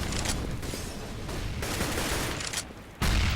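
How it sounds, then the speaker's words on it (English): A Counter-Strike match with dense in-game gunfire and blasts, ending in a loud, close grenade explosion, with no talk. "That's a big nade."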